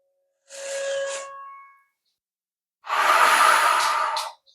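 Deep breathing during a seated yoga twist: two long, close breaths, a softer airy inhale followed by a louder, fuller exhale, with silence between and no talking.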